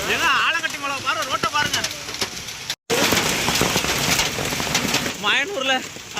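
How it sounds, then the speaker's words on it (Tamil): Heavy hail and rain pour down steadily outdoors near Kulithalai in Karur district, a dense continuous patter with a brief drop in the middle, while people talk over it throughout. "செம்ம மழை இங்க பாருங்க"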